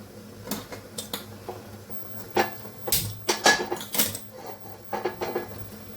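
A pan set down on a kitchen stove gives a few light metallic clinks and knocks, scattered and fairly quiet, with small cookware clatter around them.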